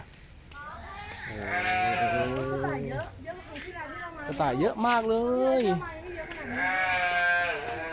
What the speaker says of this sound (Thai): ด้านหลังกระต่ายก็เป็นแกะนะครับ ดูแกะเป็นแกะทำอะไรอยู่ก็ไม่รู้